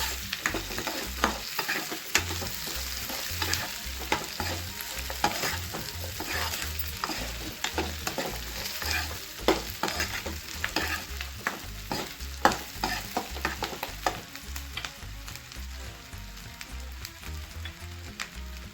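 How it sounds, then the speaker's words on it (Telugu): Green chillies fry in oil for peanut chutney, giving a steady, close sizzle with crisp spattering and regular soft thumps of stirring throughout. "ఇప్పుడైతే పచ్చిమిర్చి వేసుకుంటున్నాను"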